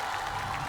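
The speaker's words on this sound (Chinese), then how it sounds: "先给大家掌声鼓励" A studio audience at a Chinese murder-mystery game show breaks into brief, steady applause, a dense wash of clapping heard close and loud with no break.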